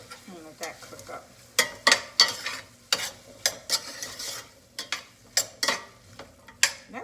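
Diced potatoes cook in a pot with a seasoning packet, sizzling steadily while a utensil stirs them in repeated scraping strokes, close and fairly soft, with no talking.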